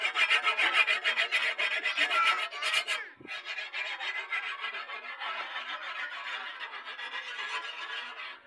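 A hand file rasps in steady, close back-and-forth strokes in a Pakistani village setting, producing a harsh continuous scraping with a brief break partway through and no talking.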